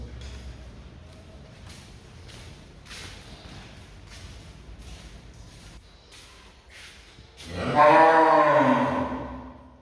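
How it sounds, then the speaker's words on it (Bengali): Cattle kept on the ground floor of a house: after a stretch of low background rumble and faint knocks, one cow lets out a single loud, drawn-out moo near the end. "ভাড়াটিয়াদের গরু"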